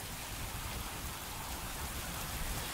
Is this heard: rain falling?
yes